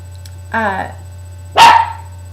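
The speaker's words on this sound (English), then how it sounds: "Just gonna wait for her to stop barking." A dog lets out two sharp barks about a second apart, close by, against a quiet background hum.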